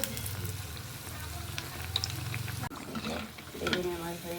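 Eggplant slices frying in hot oil for beguni during Ramadan iftar cooking, a steady sizzle with a brief splash partway through, talk over the frying.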